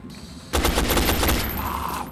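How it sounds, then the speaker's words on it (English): Gunfire in the video game XCOM: Enemy Unknown erupts as a sustained rapid burst of automatic shots lasting over a second, loud and close, then trails off into a fading tail with a tonal hum. "Everyone shoot this guy to shit."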